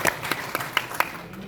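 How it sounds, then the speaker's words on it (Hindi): Audience applause at a ceremony honouring a Badaun MP, a short burst of scattered, moderately quiet hand claps with a few sharper individual claps standing out. "एक बार जोरदार तालियां बजा दीजिए"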